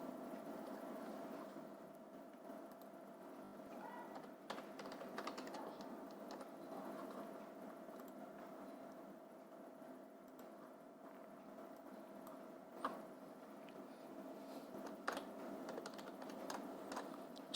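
Computer keyboard typing as an HTML table program is entered for a school computer practical, a steady stream of soft, close key clicks with occasional sharper taps over a low room hum.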